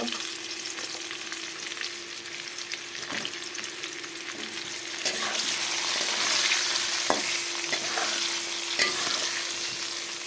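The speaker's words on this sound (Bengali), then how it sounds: "দেখো বন্ধুরা তাতে পেঁয়াজ দিয়ে দিলাম" Chopped onions added to potatoes already fried red in a pan for a mutton dish, a steady close sizzle that swells louder partway through, with occasional utensil clicks and scraping as the pan is stirred.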